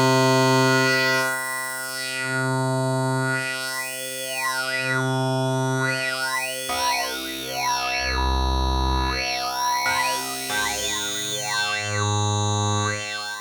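ASM Hydrasynth synthesizer playing a sustained, buzzy distorted tone whose filter sweeps rise and fall in repeating arcs, with the bass dropping deeper midway through; loud and continuous throughout, with no talking.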